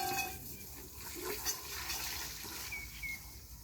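Water running while equipment is washed and rinsed after a job, a steady close rushing and splashing stream with a few brief higher squeaks, no talking.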